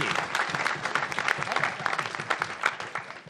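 An audience at a live Edinburgh Fringe comedy show recording gives Matthew Crosby a warm round of applause, a continuous crackle of many hands that stays full and fairly close throughout.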